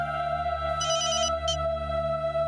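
A mobile phone rings with a steady electronic ringtone, a sustained melodic tone joined by short bright trilling bursts, loud and close, with no talking.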